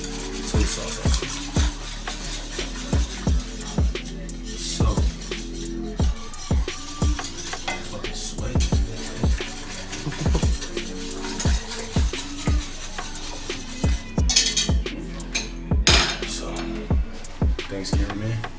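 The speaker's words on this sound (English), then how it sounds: "Whisk that in." A whisk scraping and clacking rhythmically against a metal pot as a sauce is stirred, sharp repeated strokes through the whole stretch with a faint sizzle underneath.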